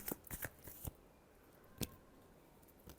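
Tarot cards being shuffled in a quiet room, a few soft riffling bursts and flicks up close, with a pause and then another flick.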